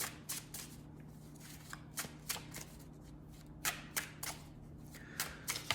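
Tarot-style Wisdom of the Tao oracle cards are shuffled in repeated quick riffling bursts, close and fairly quiet over a steady low hum, with no talking.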